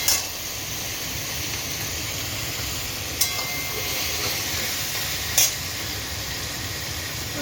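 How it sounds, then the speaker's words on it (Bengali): Onions fry in oil seasoned with whole garam masala, dried chillies, cumin and bay leaf for a meat dish, giving a steady close sizzle and hiss with a couple of brief sharp stirring clanks. "এখানে চলছে মাংসের পেঁয়াজ ভাজা।"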